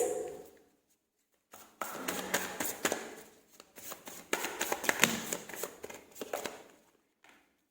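Tarot cards are shuffled and drawn by hand in a quiet room, giving a close run of dense riffling flutters and papery slaps that start after a brief pause and continue for several seconds before ending with a single soft tap.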